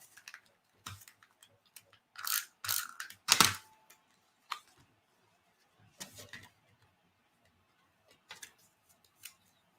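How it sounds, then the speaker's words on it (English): A tape runner being refilled and used for card making, brief clicks and ratcheting bursts scattered over near silence, close and fairly quiet. "It's a very easy tape runner to use."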